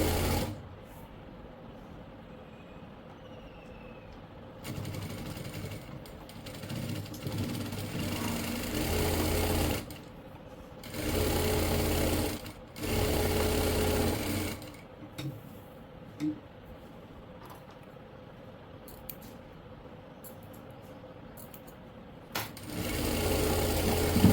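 A sewing machine stitches a kurti in several separate runs of a few seconds each, a fast rhythmic whirring broken by pauses with soft handling clicks in between.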